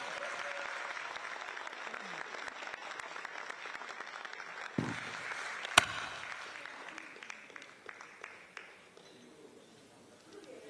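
An audience applauds at a Democratic Party event in a hall, a faint, even patter of clapping from a distance, with a sharp thump and a click partway through and the clapping fading out toward the end.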